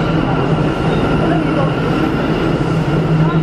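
Steady, loud rumble and rattle of a New York City J line subway train in motion, heard from inside the car as a continuous roar with no breaks.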